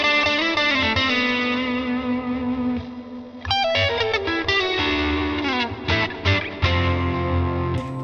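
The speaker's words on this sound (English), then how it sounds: "I'm using the reverb, very long," Electric guitar played through a Tone King Imperial MKII amp plugin with a very long reverb, sustained chords followed by plucked notes and a rapid run, clean tone with washes of trailing ambience.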